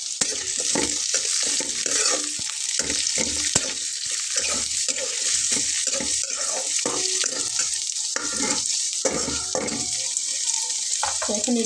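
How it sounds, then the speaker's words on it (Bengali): Potatoes and mixed vegetables such as yard-long beans fry and sizzle steadily in a pan for a Bengali fish curry, with intermittent stirring scrapes and clatter throughout. "সবজিগুলো দিয়ে একসঙ্গে বাকিটা ভেজে নেব"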